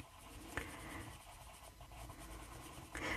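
Watercolour pencil scratching and rubbing on paper while colouring a flower petal for a kraft paper treat box, a faint, close, steady scribbling texture with a few soft taps.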